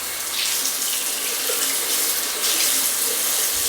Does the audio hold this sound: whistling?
no